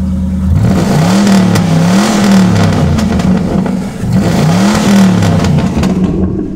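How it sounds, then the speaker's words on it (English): A Ford Crown Victoria P71 Police Interceptor with a custom-tuned aftermarket exhaust revs hard twice, its loud, close engine rising and falling in two rounded sweeps with a deep throaty rumble. "This thing's got a custom exhaust, it's obviously been custom tuned, and it is a runner."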